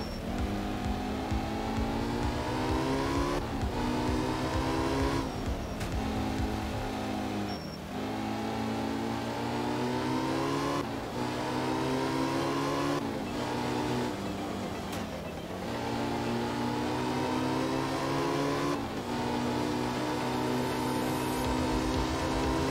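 A rally car in the racing game Art of Rally accelerates on a gravel stage, its engine rising steadily through the gears with brief dips at each shift, loud and continuous with no talk.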